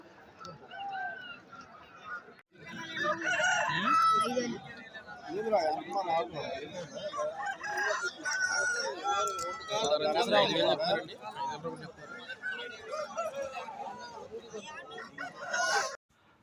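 Roosters and hens at a country chicken and fighting-cock market in Nallapadu crow and cluck amid a busy crowd, with someone talking close over the steady bustle throughout.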